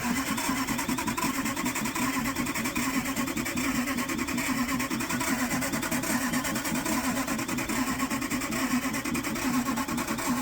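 An engine cranks steadily on a NOCO jump starter, a continuous, even churning with a fast rhythmic pulse and no catch or start, close and moderately loud with no talking.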